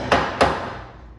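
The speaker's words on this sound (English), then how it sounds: "I'm just gonna hammer it down" Two sharp metal-on-metal hammer blows about a third of a second apart drive a beveled nut onto a lathe-turned motorcycle axle end in an interference fit on a Harley-Davidson Bad Boy, each strike ringing briefly before fading.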